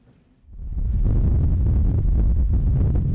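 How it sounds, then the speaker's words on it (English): Strong August wind gusts in Scotland suddenly roar up after a quiet start, buffeting loudly and continuously with a deep, rumbling blast. "number of events have also been cancelled as the country faced unusually high winds for August, as Stephen Brown now reports."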